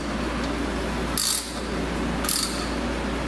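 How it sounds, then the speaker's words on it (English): A ratchet on an extension bar turns an oil filter during an oil change on a Harley-Davidson Dyna Twin Cam, giving two short, crisp bursts of rapid clicking about a second apart, close and fairly quiet. "Take your ratchet with your extension."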